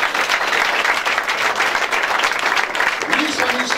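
A congregation claps loudly and steadily in a dense wash of applause at a church gathering with a prophet, while voices speak and call out over it.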